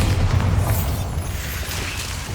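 A Bombarda explosion spell goes off in Hogwarts Legacy while clearing Devil's Snare, a loud, deep booming blast that rumbles and slowly fades over a couple of seconds.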